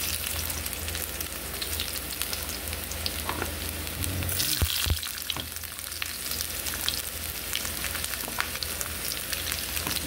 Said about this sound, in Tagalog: Kaya tayo ay maggisa na ng ating bawang sibuyas para mabango rin po.